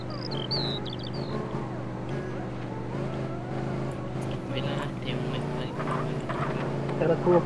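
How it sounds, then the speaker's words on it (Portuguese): A car engine in the video game MTA DayZ, a steady low rumbling drone that runs through the whole stretch beneath dense, busy game sounds. "Ah, sei lá, ligaram o carro ali."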